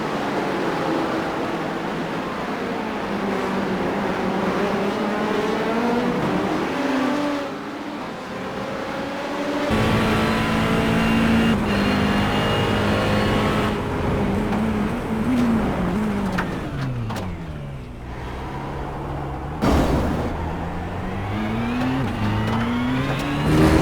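LMP2 prototype race cars roar around Sebring in the iRacing sim, engines screaming up and down through the gears with rising and falling pitch, loud and continuous with overlapping passes and no talk.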